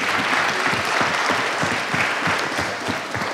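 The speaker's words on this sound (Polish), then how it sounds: "jeszcze raz brawa dla uczestników debaty" Applause from an audience for the participants of a film-themed student debate, a dense steady clapping that fills the room at close range with no voices over it.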